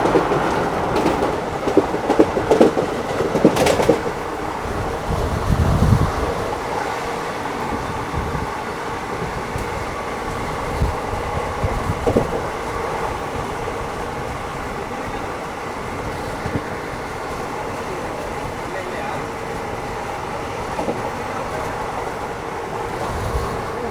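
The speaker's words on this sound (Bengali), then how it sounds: "আর এই তিরুপতি ছাড়ার সাথে সাথে ট্রেন মোটামুটি বেশ ভালো গতি নিয়ে এগোচ্ছে" The Rameswaram Express, train 16779, running at speed after leaving Tirupati through hilly country, a continuous rumbling rattle of wheels and carriages with a few louder clanks early on, heard steadily from inside the train.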